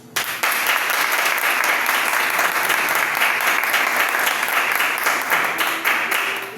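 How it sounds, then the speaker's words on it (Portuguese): A church congregation at a Sunday service breaks into loud, sustained applause that starts suddenly and holds dense and steady for several seconds, filling the room without any voice on top. "Aplauda Jesus, gente."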